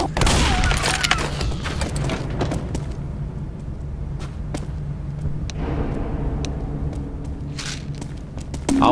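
Pipe bomb explosion in the video game Left 4 Dead 2: loud broadband booms and rumbling blasts over a dense mix of gunfire and game noise, with a sharp burst near the start and another surge later.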